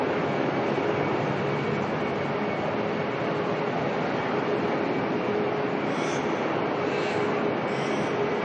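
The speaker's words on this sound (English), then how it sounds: "Alright, Jetstar heading out here to Sydney." Jetstar airliner departing Melbourne Airport for Sydney, a steady broadband jet engine roar that holds loud and even throughout without pause.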